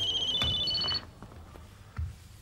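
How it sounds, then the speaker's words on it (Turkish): An electronic telephone ringtone trills close by for about a second in repeating high tones, then cuts off, leaving quiet room noise with faint knocks. "E, telefon çalıyor."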